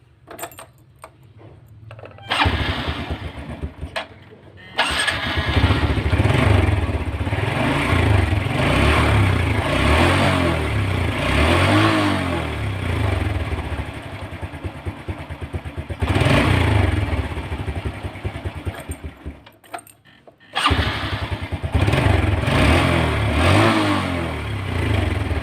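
A motorcycle engine, fired up right after a spark plug check, catches after a couple of short attempts and runs loud and close, revving and idling unevenly with brief drops before picking back up.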